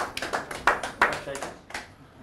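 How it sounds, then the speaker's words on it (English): An audience at a youth skills and knowledge session claps briefly, with a handful of distinct, fairly close hand claps over a couple of seconds and voices speaking around them. "let's clap for him"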